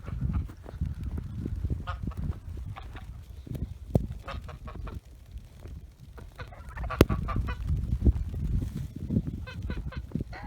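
Geese honking and clucking intermittently nearby on snowy ground, scattered calls over a low rumbling outdoor background, no talking.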